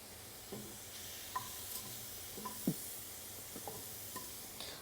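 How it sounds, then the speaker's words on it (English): Ginger slices char in a pan for pho, giving a faint, low hiss with occasional soft clicks and scrapes of handling. "We're gonna cut the ginger. Just some slices. And put it to char."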